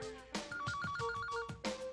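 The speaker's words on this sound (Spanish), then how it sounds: "El teléfono sonó y lo contesté deprisa." A telephone rings with a bright, warbling electronic trill repeated in quick pulses over about a second, set against a low background of other sound, with no talking.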